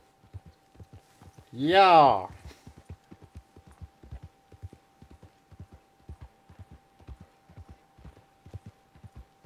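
A horse in the video game Red Dead Redemption 2 clip-clops at a steady walking rhythm, crisp hoofbeats close up for the whole stretch, with a single shouted word from a player breaking in near the start.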